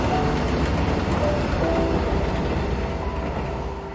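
A train rolls along railway tracks with a continuous, close rumble and faint rhythmic rattling that fades slightly toward the end.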